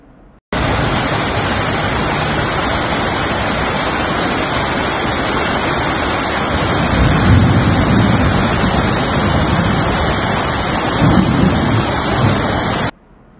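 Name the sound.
heavy rain in Kondapur, Hyderabad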